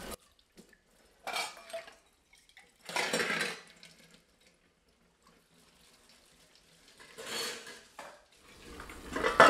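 Someone washes two or three pots in a home kitchen sink while cooking lunch; short bursts of running tap water and clattering metal pans come and go, separated by quiet gaps, close by and with no talking.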